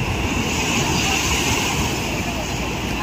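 Strong surf rolling onto a beach in Goa, a steady loud wash of waves with wind buffeting the microphone throughout.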